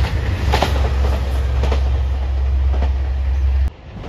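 A JR Shikoku 2600 series limited express diesel train passes close by with a loud, steady engine roar and rumbling wheels, with no talk, before the sound suddenly drops away near the end.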